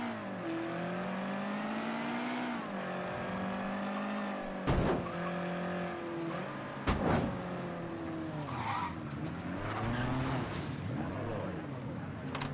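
A Corvette convertible drives through the video game Mafia 3, its engine droning and revving steadily with shifting pitch, broken by a couple of sharp impacts and bursts of tire squeal.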